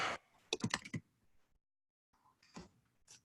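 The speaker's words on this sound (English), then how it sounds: "I'm just typing." Computer keyboard typing during an online planning meeting, quick clusters of clicking keystrokes in two bursts separated by a short silence, fairly close and moderately loud, no talking.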